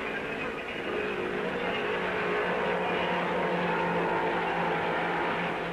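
Race car engine from a 1950s-era Grand Prix at Spa's Raidillon, running steadily and loud throughout as the car restarts and pulls away, a sustained broadband roar with no voices.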